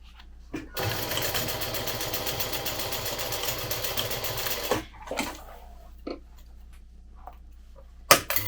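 Sewing machine running a steady straight seam about 1/8 inch from the edge to close an insulin pouch, a continuous close whir lasting several seconds, then stopping, followed by a few soft handling clicks.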